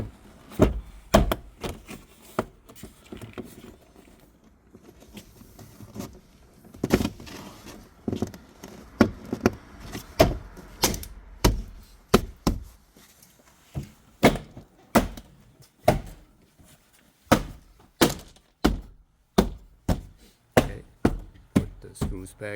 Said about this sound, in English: you put your finger behind the door panel, line up the holes, and push back in.